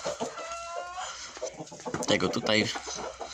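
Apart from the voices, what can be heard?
Brahma rooster clucking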